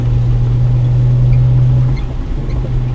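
A BMW N52 naturally aspirated inline-six engine in sport mode drones loudly and steadily from inside the car, its low hum dipping briefly before carrying on, with no talking.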